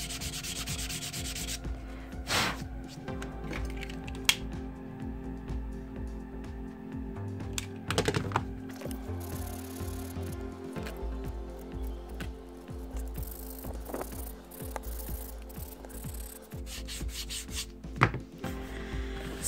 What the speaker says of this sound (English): Sanding all edges of leathers.